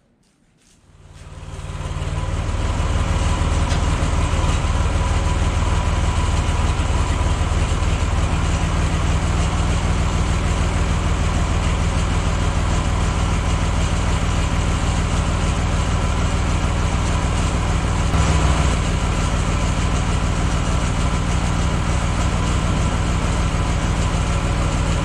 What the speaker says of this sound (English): Let's hook the tractor to it and see if the tractor will drag this thing out of here.